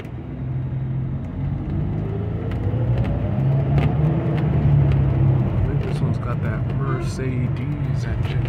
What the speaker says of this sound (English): Mercedes engine in it.